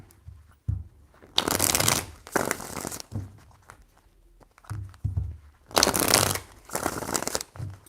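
Tarot cards being shuffled in several bursts, riffling and rustling loudly up close, separated by quieter handling and pauses with no talking.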